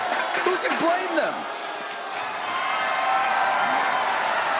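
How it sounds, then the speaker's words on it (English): Arena crowd in the video game WWE 2K25 roaring after a slam, a steady loud wash of cheering that swells through the clip, with a commentator talking over the start. "This crowd is thunderous right now"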